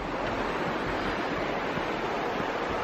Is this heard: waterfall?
yes